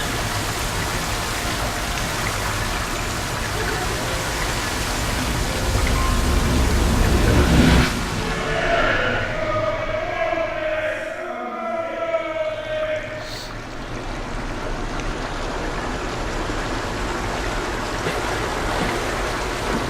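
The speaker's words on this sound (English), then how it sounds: "There's blood and God knows what else flowing through this like water." Blood and other liquid flowing like water through a channel in Amnesia: A Machine for Pigs, a continuous rushing gush with a brief surge and swirl midway, steady and close throughout.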